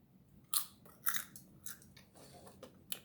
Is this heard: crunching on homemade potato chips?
yes